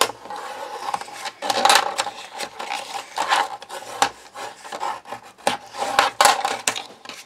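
A scoring tool rasps repeatedly along paper to form a hinge for a memory book, giving close, dry scraping strokes in an uneven rhythm with short pauses between passes.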